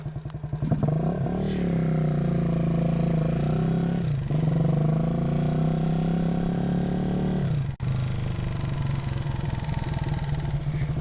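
A motorcycle with a rough, farm-equipment feel pulls away on a ride, its engine droning loud and close as it rises through gears with shifts breaking the tone, and wind rushes past.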